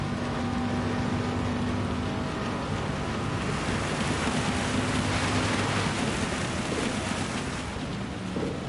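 Steady hiss of heavy rain in the racing video game Gran Turismo 7, an even broadband wash with a faint low engine tone running underneath.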